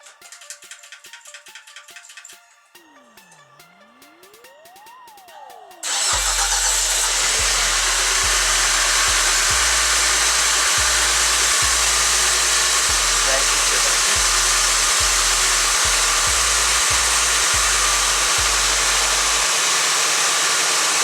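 A Peugeot 106 S16 engine cranks and catches, then runs loudly and badly with an uneven, stumbling idle, rhythmic dips breaking the steady roar; electronic tones precede it.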